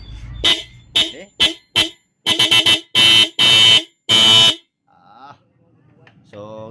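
A dual horn fitted to a Honda ADV 160 motorcycle sounds in a series of loud, close honks, first short blips and then longer blasts, followed by quieter rumbling and brief voice-like sounds.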